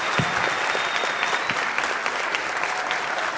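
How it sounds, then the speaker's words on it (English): An audience applauds astronaut Jeanette Epps at a school event in central New York, steady dense clapping close and loud throughout, with a brief voice at the very start. "Let's have another big round of applause for Jeanette Epps."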